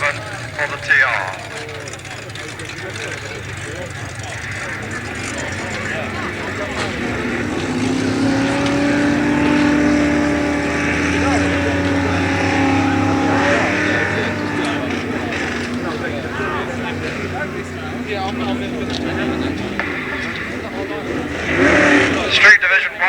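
A Chevy 2 and a rival car drag race at North Weald in 1986, their engines roaring loudly at a distance and rising and falling over twenty seconds. A commentator talks over the engine noise throughout.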